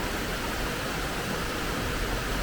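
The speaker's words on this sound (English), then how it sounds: "This room is just next to this waterfall." Steady, full-band rushing roar of a waterfall right beside a riverside resort room by the Ganga in Rishikesh, constant and close with no pauses or voices.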